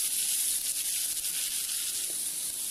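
Sliced onions sautéing in a pan, a steady, soft, high sizzling hiss that holds evenly throughout with no talking.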